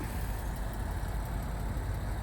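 A pearl white 2009 Honda Accord EX-L V6 with dual exhaust idles steadily nearby, a smooth, even low rumble with no talking.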